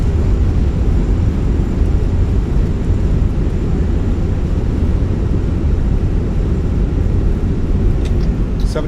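Fenix A320 thrust reversers roaring during landing rollout in the MSFS game, a loud steady broadband engine rush that holds without a break.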